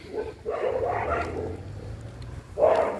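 Dogs barking on a busy street, a few separate bursts of barking standing out against steady wind noise and outdoor bustle.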